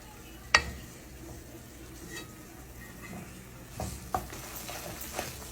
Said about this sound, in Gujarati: માવાને શેકવા દેવાનું